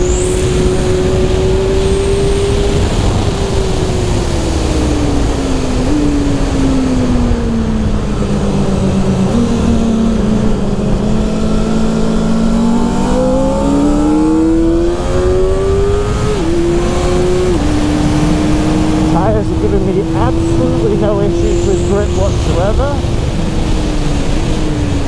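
A 2023 Kawasaki ZX400RR inline-four revs loud and high, its pitch climbing, dropping at shifts and rising again through the gears under heavy wind roar, with a rider's voice faintly underneath.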